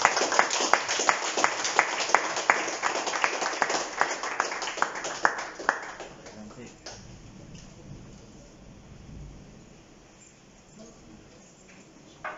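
A congregation claps during a church service: a burst of loud, dense applause for the first several seconds that thins out and dies away into a quiet room.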